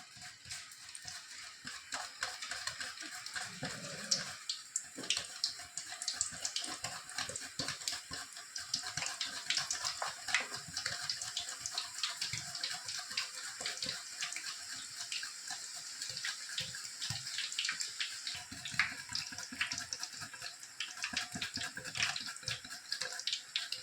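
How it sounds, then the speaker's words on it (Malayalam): Sliced chips, cut for a Kerala-style batch, dropped into hot oil and frying: a continuous dense hiss and crackle of bubbling oil that holds steady for the whole stretch, close by and without talk. "എണ്ണ ചൂടായിട്ടുണ്ട് നമുക്ക് ചിപ്സിന് കട്ട് ചെയ്തിട്ട് കൊടുക്കാം"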